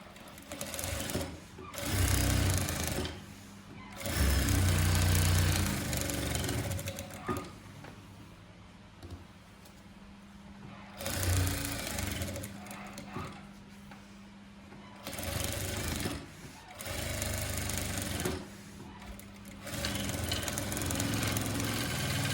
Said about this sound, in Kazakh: Мына ортаңғы синтефон бөлігін 4 жағында тігіп аламыз.